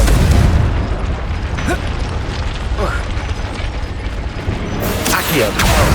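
The Confringo explosive spell in Hogwarts Legacy, cast in combat, brings loud booming blasts and crackling bursts over dense rumbling game noise, with a sharp burst near the end.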